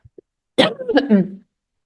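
A single harsh cough from a nearby person, preceded by two tiny clicks, then silence.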